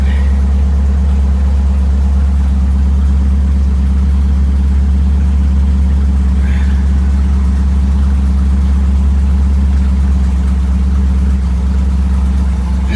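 A 1956 Ford Thunderbird engine idling steadily just after starting, a loud, even low rumble with a constant pulsing drone held throughout, close by and without talk.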